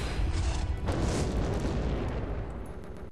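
Dragon fire erupts in Broken Sword: The Sleeping Dragon as a loud, booming blast of rumbling roar that surges after a second and then slowly fades away, with no voices.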